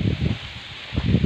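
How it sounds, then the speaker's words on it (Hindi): Dry leaves of a jamun tree, among fire-damaged roadside plants, rustle in two soft bursts with a quiet gap between, close to the microphone. "ये जामुन का पौधा, ये पत्तों की आवाज़ सुनिए"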